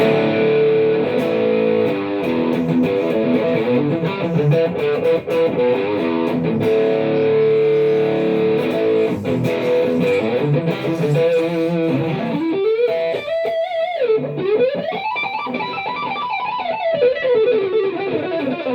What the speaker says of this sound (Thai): อันนี้ไม่ใช่เสียงแตกเอ้ย ไม่ใช่ ไม่ใช่เสียงโวโรนะครับนี่เป็นเสียงคลีนนะครับ